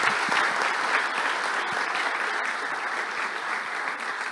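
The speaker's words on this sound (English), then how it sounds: "huge round of applause for them" Audience applause at a CMA USA convention seminar, a dense, steady clapping from a crowd that fills the room evenly and holds at constant loudness throughout.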